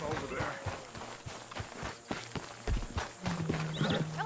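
Clip-clopping hooves of a white horse walking in Red Dead Redemption 2, steady close hoofbeats with a whinny near the end, and someone talking over them.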